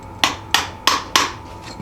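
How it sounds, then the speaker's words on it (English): Four sharp hammer strikes, evenly spaced and fairly close, driving a bushing into a leaf spring shackle on a 1978 Jeep J10, each blow ringing briefly before the next. "So I'm going to start it just with a hammer"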